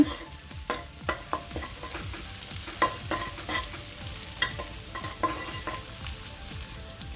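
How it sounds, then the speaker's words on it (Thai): Garlic and chili stir-frying in a pan, a quiet sizzle under a run of sharp spatula taps and scrapes at an uneven rhythm, no talking. "กระเทียมกับพริกลงไปนะคะ คนให้เกิดกลิ่นหอมนิดนึง"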